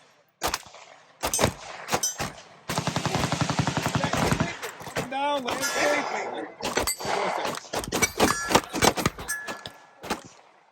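Pistol shots from an MX19 aluminum-frame handgun, fired as a rapid string of sharp cracks at close range, with scattered single shots before and after and people talking around them.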